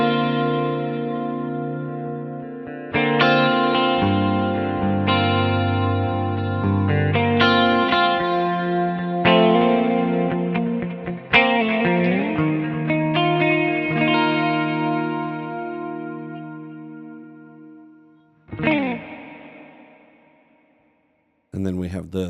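Electric guitar chords played through swirling modulation and distortion effects, including the Leslie simulation on an H9 pedal, sustained and ringing, with a brief pitch-sweeping warble near the end; no talk.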